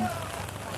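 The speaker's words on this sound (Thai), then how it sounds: "ฝนตกพี่น้องเนาะฝนตก" Steady rain falls in a dense, hissing wash at an outdoor buffalo market with a faint voice underneath, continuous and fairly close throughout.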